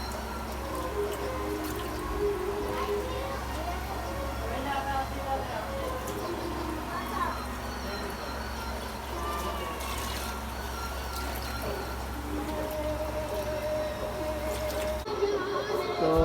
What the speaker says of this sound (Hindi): तो फ्रेंड्स कूलर सेट हो चुका है, पानी उसमें भर रहा है।